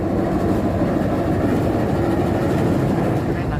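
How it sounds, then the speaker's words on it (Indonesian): The KA Lodaya passenger train pulls away from a station, heard from inside as a loud, steady rumble of wheels on rails with a faint rhythmic clatter. "Akhirnya berangkat dari stasiun Cipende setelah 10 menit lebih"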